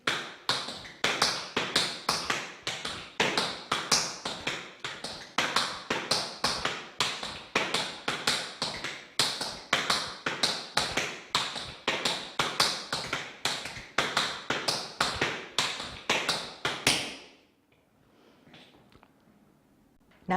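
Tap dance double time steps, a long run of crisp, rhythmic metal taps in repeating bursts for about 17 seconds before stopping into near silence.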